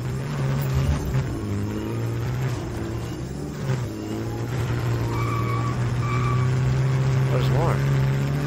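Car engine droning steadily while driving in the Just Cause 4 video game, with a low hum that stays loud throughout, brief tire-skid noise, and a voice talking over it.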